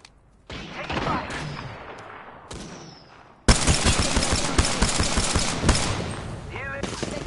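Gunfire in a shooter video game, rapid bursts of automatic shots that start after a short lull and then turn into a loud, dense barrage of repeated cracks, with faint voices underneath.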